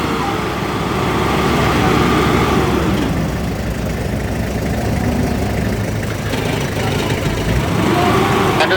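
An off-road car's engine runs loud and close under throttle, holding a rough, rumbling drone through the whole stretch with slight swells in revs and no voices over it.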